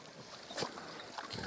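Young red pigs on a small pig farm give a few short grunts and snorty squeals amid soft pen noise, fairly close and moderately quiet.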